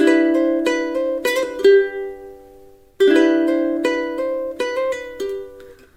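A plucked ukulele melody, played twice, notes ringing together with quick combined hammer-ons and pull-offs between picks, clear and close with no talking.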